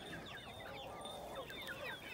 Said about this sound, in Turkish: Şurada bizim emektar köy tavuklarımız.